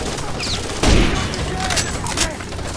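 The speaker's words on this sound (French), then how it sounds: "On me tire dessus." Gunfire crackles in Rainbow Six Vegas, a close, rapid fusillade of shots with one heavier blast early on and continued bursts throughout.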